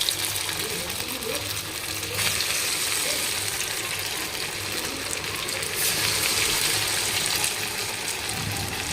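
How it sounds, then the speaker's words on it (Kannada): Crispy snacks frying in a pan of very hot oil, giving a steady, dense sizzle and bubbling hiss that runs the whole time without speech. "ಕರ್ಕೊಂಬಿಡೋಣ್ರಿ ಇವಾಗ."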